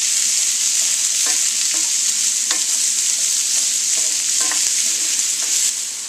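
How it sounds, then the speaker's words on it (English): Celery and onion cook in hot oil with a loud, continuous hiss and sizzle, punctuated by soft taps and stirring clicks. "Once your oil is heated up, add your celery and your onion, and you're going to cook that till it's soft and translucent."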